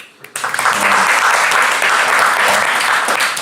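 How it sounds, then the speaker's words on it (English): Loud, sustained applause for a panel at a media summit, with a few early claps building quickly into a full, steady round from the audience. "I'm going to clap you all."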